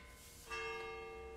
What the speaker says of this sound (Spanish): Me encantan las campanas, que no sé si se oyen en el vídeo